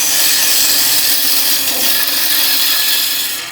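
Bowl gouge with a 55-degree bevel cutting excess timber from the outside edge of a first bowl on a wood lathe, a steady loud hissing scrape lasting throughout with no talk.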